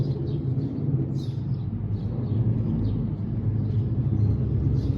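A car engine idling at a crosswalk, a low steady rumble with faint bird chirps scattered above it.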